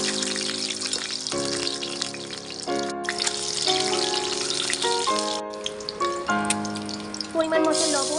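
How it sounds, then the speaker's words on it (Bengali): Eggs fry in hot oil in a wok, giving a continuous hissing sizzle that sits beneath prominent background music for the whole stretch. "এবার ডিমগুলো ভেজে নেবো।"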